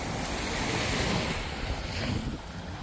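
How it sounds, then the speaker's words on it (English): Ocean waves wash onto Playa del Carmen beach in a continuous roaring surf, mixed with gusty wind rumbling against the microphone. "We're on Playa del Carmen Beach,"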